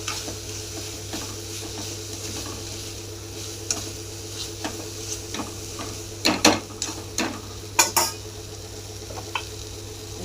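Ghee with ground cumin and peanuts sizzling in a pan for an eggplant and potato curry, a low steady hiss broken by a few sharp clinks and scrapes of a spoon near the end.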